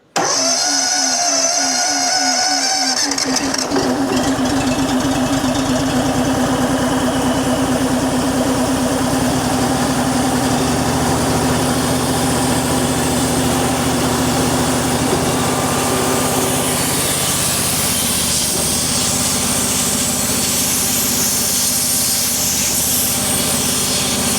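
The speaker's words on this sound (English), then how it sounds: "Now that the engine's idling and I've closed the air tank, I'm going to start throttling up." An EZ Liner power pack engine cranks over on half choke and catches, then settles into a loud, steady close-up idle with a buzzing mechanical drone that runs unbroken to the end.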